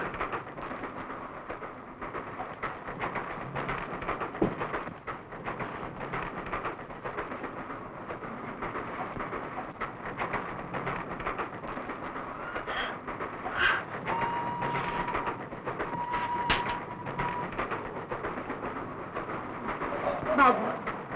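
A moving train carriage rumbles steadily with a continuous rattling hum and occasional clanks, while people talk over it throughout.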